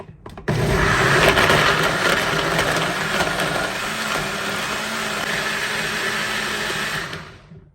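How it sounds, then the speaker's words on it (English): Blender or NutriBullet whirring through a weight loss drink of water and superfood ingredients, a loud steady motor roar that starts abruptly, runs about seven seconds and cuts off. "Put everything in your blender or NutriBullet or anything you have and blend."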